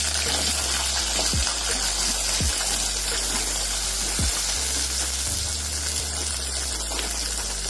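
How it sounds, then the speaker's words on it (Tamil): Cloves and fennel seeds fry in oil for a country chicken curry, making a dense, constant sizzle with a few low thumps and pops, near and uninterrupted by talk. "ஒரு 3 கிராம்பு, கொஞ்சமா சோம்பு. இது நல்லா வதங்கட்டும். இது நல்லா பாருங்க பொரியுது."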